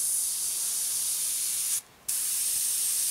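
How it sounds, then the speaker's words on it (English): An airbrush hisses paint onto a Tamiya 1/48 Spitfire Mk.1 model kit, a loud, steady close spray that cuts out briefly for a fraction of a second, then resumes. "Spray that."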